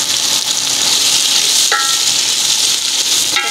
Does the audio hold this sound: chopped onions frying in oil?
yes